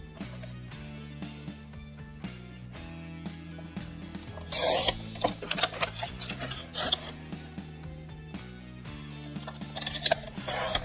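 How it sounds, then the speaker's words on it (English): A paper trimmer slides through cardstock to cut a border for a scrapbook layout: a short, scratchy rasp of the blade that rises over steady background music midway through. "This is my favorite trimmer."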